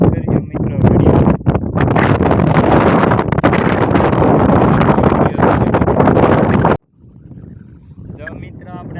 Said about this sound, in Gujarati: પવન બહુ છે કપામાં